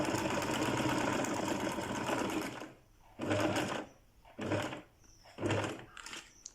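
A sewing machine stitches a seam, running steadily and loud for about three seconds, then in three short stop-start bursts separated by near-silent pauses.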